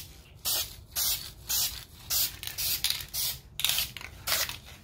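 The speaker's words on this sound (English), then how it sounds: "I'm gonna go ahead and spray paint it with chalkboard black spray paint" Chalkboard black spray paint hisses from an aerosol can onto a glass vase in about nine short, even bursts with brief gaps between them, close and clear.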